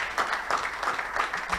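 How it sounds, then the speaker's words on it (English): An audience at a Nigeria at 61 colloquium gives a quick round of applause, a soft, fairly distant patter of clapping with rhythmic swells. "Let's give him a round of applause, please."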